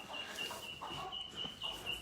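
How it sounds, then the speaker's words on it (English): Barn chickens cluck softly and intermittently at close range over a steady high electronic whine, with a few short bursts spaced across the moment and no talking. "These are the barn chickens"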